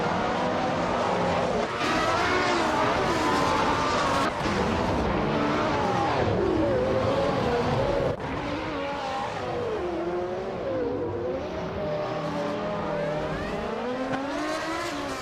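Racing-game cars run side by side for the lead, engines droning steadily with rising and falling pitch as they shift gears, loud and close with no talk over them.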